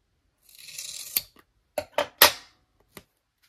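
Scissors snip through double-sided tape while a pocket mini album is being made, a short soft cutting rustle followed by three or four crisp separate snips spaced close together, then a faint final click.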